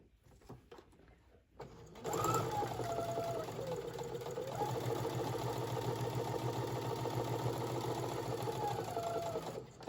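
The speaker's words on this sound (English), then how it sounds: "I'm going to go ahead and chain stitch them" A sewing machine runs a chain stitch on fabric tabs for cosmetic pouches, starting after a couple of seconds of quiet handling and then whirring steadily and close, with faint pitch shifts as the speed changes.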